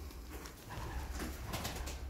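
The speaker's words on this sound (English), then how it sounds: "Bloody pigeons." Pigeons coo inside an abandoned mill, soft murmuring calls repeating over a muffled, echoey background, fairly faint and without talk.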